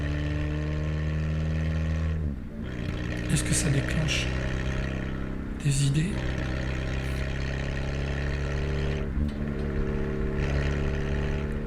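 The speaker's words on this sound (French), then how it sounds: "au moment où la voiture passe" A car passes by outside during a quiet meditation session, its engine rising and fading as a steady low hum beneath a calm spoken voice.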